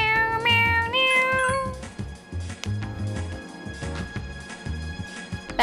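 Cat meowing in the video game Persona 3 FES: a few rising, drawn-out meows at the start, loud and close, then upbeat game music carries on alone.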